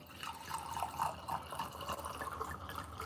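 Ménage à Trois Pinot Noir red wine is poured into a glass, a steady liquid trickle and gurgle lasting about three seconds, close and clear.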